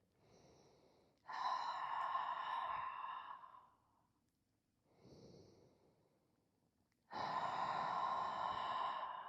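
Loud, audible breaths during a lower-body workout: a long drawn breath, a softer shorter one, then another strong sustained breath, close and alone without speech.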